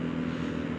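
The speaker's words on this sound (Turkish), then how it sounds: "Dördüncü viteste yürüyor ama bir şey yemiyor bu yokuşta." A motorcycle engine drones steadily under load climbing a hill in fourth gear, a continuous low rumble with no revving changes, close and fairly loud.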